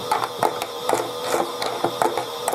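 A pink Chad Valley toy washing machine spins at 150 RPM, its small motor whirring under a regular, rapid clatter of knocks about twice a second, loud and close.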